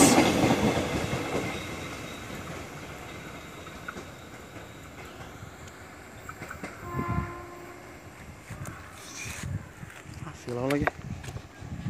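Passing train hauled by locomotives 6008 and 6018 on an Indonesian line, a rumbling approach with clattering wagons and brief squealing wheels and horn-like tones, moderately loud, with voices in the background.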